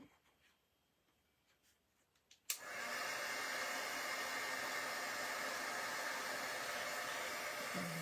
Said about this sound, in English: Let me get my heat tool, A little bit of noise here.